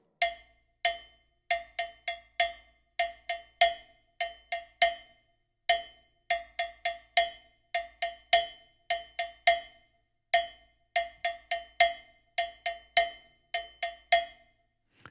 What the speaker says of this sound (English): you can play different kinds of mambo bell patterns